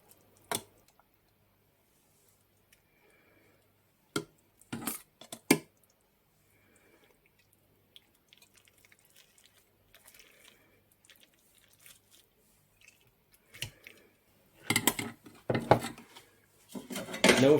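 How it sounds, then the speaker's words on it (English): Meatballs in sauce lightly smashed in a bowl, soft squishy presses and scrapes of a utensil against the bowl, sparse at first then busier toward the end, close and quiet with no talk. "smash them up lightly in the bowl."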